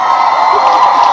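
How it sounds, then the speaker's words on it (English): An audience claps and cheers, a dense, loud crowd roar with whoops running continuously through the moment. "They're clapping for Nutty Dopamine."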